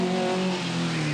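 A Vauxhall Chevette rally car at the 1982 Lombard RAC Rally, driving through Knowsley's monkey enclosure, gives a steady, loud engine drone with strong harmonic tones held at an even pitch throughout.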